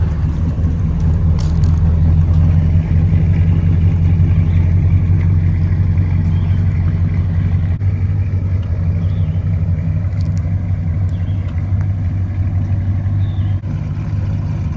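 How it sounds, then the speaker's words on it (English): Two V8 muscle cars, a 1971 Dodge Charger Super Bee with a 383 Magnum and a 1966 Buick Wildcat with a 401 Nailhead, rumble loudly together in a deep, steady idle close by, with no talking. "Let's hear that 401 nailhead singing next to that 383 Magnum."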